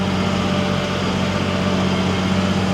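An old farm tractor engine runs steadily at about 2,200 RPM while haying, a continuous loud drone with a constant low hum and no break or talk throughout.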